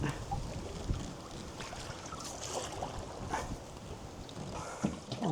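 Steady wind rushing over a canoe on the River Stour, continuous and close to the microphone, with light buffeting gusts and faint water sounds beneath, no talking.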